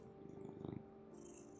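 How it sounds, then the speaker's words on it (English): A cat purrs softly and close by in a low, rhythmic rumble that swells slightly midway, with no one speaking over it. "I hope you're hearing some of these purrs"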